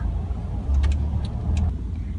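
Cars stuck in a slow morning traffic jam in France, a steady low engine rumble with passing vehicle hum and brief higher tones, fairly close and continuous with no talk.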